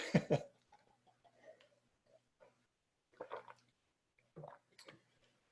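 A sharp cough bursts out at the start, followed by quiet breaths and a few more short throaty coughs and throat clearing spaced apart.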